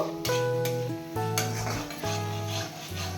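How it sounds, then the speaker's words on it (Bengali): Chopped tomatoes and spices frying in a pan for fish-head moong dal, a steady sizzle with bursts of stirring and scraping between low humming tones, close and with no talk. "এবার দিয়ে দেব কেটে রাখা টমেটো। মশলার সাথে টমেটো ভালো করে নরম করে নেব।"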